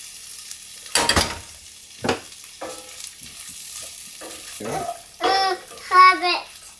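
Food being stirred in a pot at a snowed-in cabin, a few soft scraping and clinking strokes under a voice and an adult's voice talking nearby.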